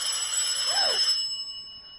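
A telephone bell rings close and bright with a metallic resonant tone, then the ring decays into a lingering shimmer.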